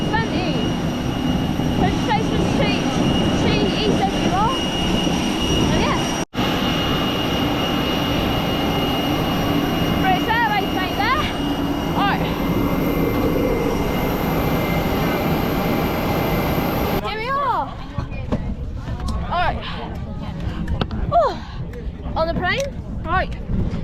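Steady loud jet engine roar from an Airbus A320 airliner at London Gatwick, broad and continuous, with voices talking over it and a shift to quieter cabin noise near the end.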